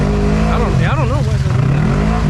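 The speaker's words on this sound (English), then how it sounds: "Is that belt squeal? Probably." Off-road side-by-side churning through a mud hole during a race, engine droning loud and steady with a wavering high squeal rising and falling in the middle, like a slipping drive belt.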